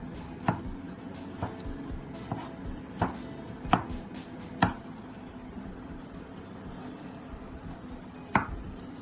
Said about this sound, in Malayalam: അപ്പോൾ നമ്മുടെ തക്കാളിക്ക് നമ്മൾ അരിഞ്ഞു